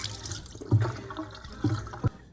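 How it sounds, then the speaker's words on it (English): Vinegar poured out over spare ribs, a short liquid splashing and trickling sound with a couple of louder glugs and spatters, close up. "We're just gonna empty the vinegar we have."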